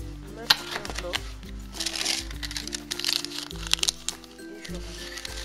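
Paper rustling and crinkling as a small envelope of shopping receipts is handled up close, with sharp cracks and crumples over a low hum and faint voice in the background.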